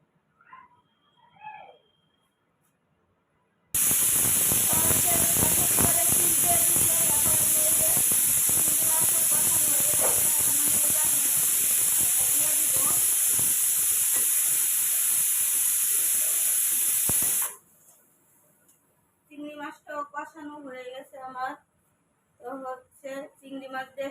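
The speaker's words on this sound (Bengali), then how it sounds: "রান্না করতেছি প্রেসার কুকারে বসাই দিছি" Pressure cooker cooking prawns with cucumber blasts a loud, steady jet of steam hiss for about fourteen seconds. Speech comes before it, and bursts of talk follow after it cuts off abruptly.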